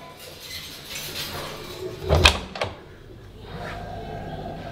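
A short thump and rattle of a blocked maid's room door being shoved open in a condo, followed by a smaller knock, with quiet room noise around it.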